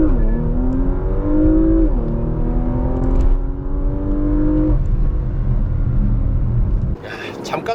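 A Porsche Macan GTS with a 7-speed PDK gearbox accelerates hard to 100 km/h, engine rising in pitch with a quick shift dip, then climbing again under continuous loud rumble before easing off near the end.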